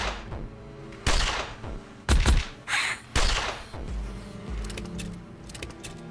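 Turret gunfire in a ranger stage of a video game: several sharp, loud bursts of shots at irregular intervals, with quieter clicks and clatter between them and no talk.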